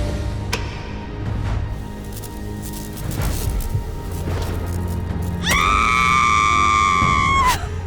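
A sudden high, sustained scream rises late in the clip after muffled rumbling and scattered thuds, then breaks off abruptly.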